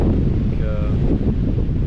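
Strong wind roars and buffets across the microphone near a small mountain summit in Croatia, loud and constant, with a faint whistling tone briefly riding above the rumble.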